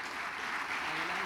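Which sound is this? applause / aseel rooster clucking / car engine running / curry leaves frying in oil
applause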